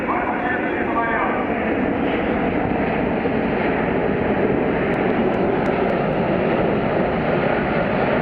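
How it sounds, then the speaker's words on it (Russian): Airbus A380 airliner flying a turn over an air show, a broad, steady roar of jet engines holding at a fairly loud level with no pauses. "Вираж выполняется на А-380."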